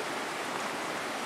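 Slave Fall on the Tecumseh Trail in Indiana sends up a steady, dense rush of falling water, a loud, unbroken hiss with no pauses.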